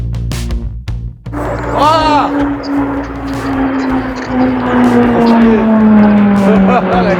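A car drives along a road with a steady engine drone and a rising, gliding engine tone, while wind or road noise fills the background; a voice also speaks at the start.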